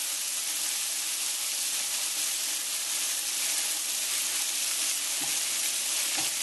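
Loud, steady frying sizzle filling the whole clip, a dense hiss with faint stirring clicks near the end.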